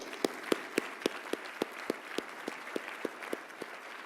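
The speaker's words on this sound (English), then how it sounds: "Please join me in applauding Dr. Riley's outstanding work in the First Coast region." Sparse, faint clapping at the First Coast Hall of Fame 2018 ceremony honoring Dr. Riley: a handful of hands beating a slow, even rhythm of about a dozen distinct claps.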